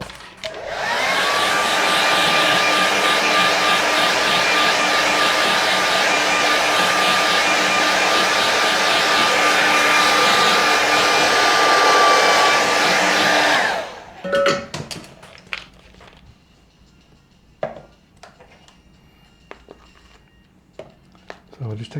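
A hair dryer blows steadily on a watercolour winter landscape painting, loud and close with a constant whine for about fourteen seconds, then cuts off, leaving quiet brush taps and light handling noises.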